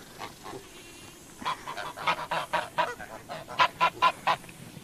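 Geese honk repeatedly, a few scattered calls at first, then a rapid run of loud, close honks.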